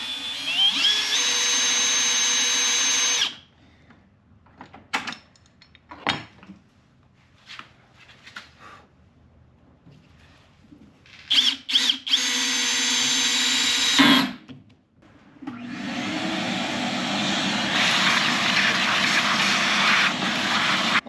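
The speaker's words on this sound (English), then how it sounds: "Now I'm going to drill the other top one first," Power drill boring through metal on a Mercedes Sprinter van: loud sustained high whine in long bursts, separated by quieter clicks and handling noises.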